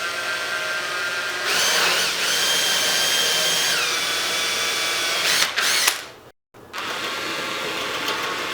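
A power drill bores a hole for a 5/8-inch dowel, the hole widened step by step with progressively larger bits. A loud, steady whine runs for several seconds, breaks off briefly, then resumes, with no talking.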